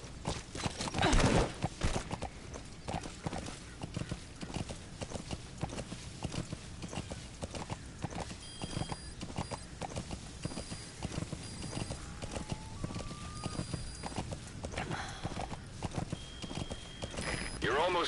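Steady clip-clop of horse hooves galloping at a brisk rhythm in Metal Gear Solid V: The Phantom Pain, with game sound effects and occasional chimes layered over it.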